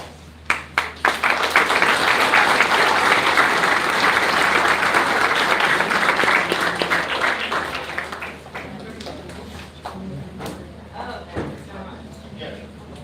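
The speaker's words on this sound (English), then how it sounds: "Let's give Jody another round of applause, folks." An audience at a live elk tag drawing event bursts into loud, sustained applause after a few opening claps, then tapers off into scattered claps and talk.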